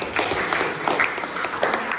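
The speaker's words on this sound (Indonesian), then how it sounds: "tepuk tangan untuk kelompok ini" A class group claps steadily for a presenting group, a dense patter of many hands close by.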